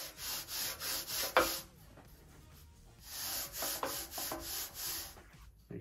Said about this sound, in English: And you just take a few swipes with your sander.